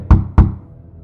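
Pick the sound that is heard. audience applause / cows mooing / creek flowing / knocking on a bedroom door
knocking on a bedroom door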